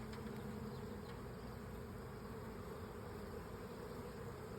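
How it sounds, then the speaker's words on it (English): Honeybees swarm around an open beehive during a hive inspection, producing a dense, steady buzzing drone that holds evenly throughout, close and continuous with no speech. "I feel like there's way more bees this time than last time."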